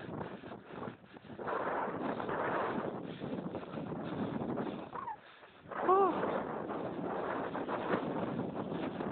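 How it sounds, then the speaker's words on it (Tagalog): Strong wind buffets the microphone outdoors with a rough, continuous roar that rises and falls and briefly drops away, while people talk over it. "Perte ka hangin ah."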